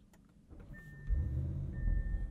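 A 2022 Audi SQ7 starting up: a brief starter whir and faint whine, then the engine catches into a deep, steady low rumble that holds and swells slightly, heard close with no talking.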